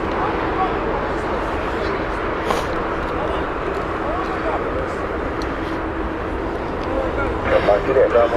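An airliner at Heathrow Airport, the inbound Stockholm flight, makes a steady, broad jet roar that holds throughout and swells slightly near the end, with a commentator talking over it.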